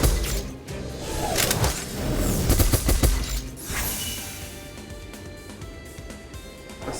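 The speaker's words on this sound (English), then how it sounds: "I was seeing how loud that the gunshots were getting as compared to my voice" Gunfire in the aerial combat video game Sky Oceans: Wings for Hire rattles in dense rapid bursts, loud and continuous for the first few seconds, then thins out under lingering engine and effects noise.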